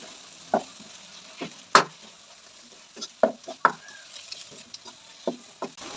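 Spices with turmeric, Kashmiri red chilli, dried coriander and cumin are stirred into tomato masala in a pan for a Bakra Eid dish, giving scattered spoon scrapes and clinks over a soft sizzle.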